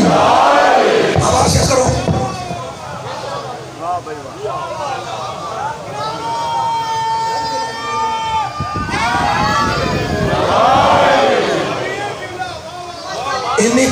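A crowd at a Muharram majlis in Islampura, Lahore shouts the Nara-e-Haidari slogan in loud massed bursts. A single voice calls out between the crowd's roars, and the collective shout swells again at the start and the end.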